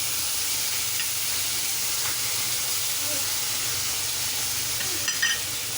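Ground onion paste fries in hot oil in a pan for a curd katla fish dish, giving a steady, loud sizzle and hiss with a few brief spatters near the end.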